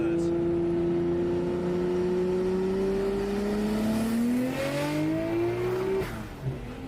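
Nissan Skyline R34 GTR engine revving and rising in pitch as it builds boost, a strong steady tone climbing over several seconds before cutting off, with some talk heard under the engine.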